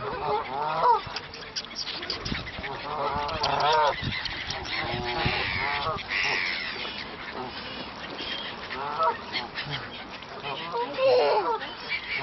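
Ducks being fed bread honk and quack in busy, overlapping calls close by, while people talk now and then among them.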